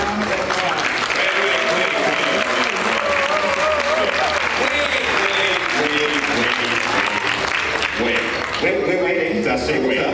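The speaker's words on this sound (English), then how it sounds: "Give yourself a round of applause." Convention crowd applause fills the hall as a dense, continuous roar of clapping mixed with cheering voices, sustained for about ten seconds and thinning slightly near the end.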